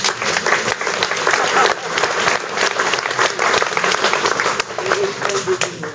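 A concert audience at a show in Cars, Gironde, breaks into dense, sustained applause, loud and continuous for several seconds, with a voice faintly audible beneath it.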